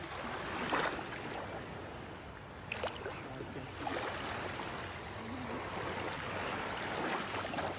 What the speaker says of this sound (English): just the waves came along and